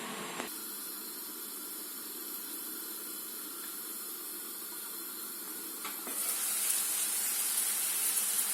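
Fresh peas cooking in olive oil in a pot, giving a steady soft hiss and sizzle with faint crackling throughout, growing brighter and louder near the end.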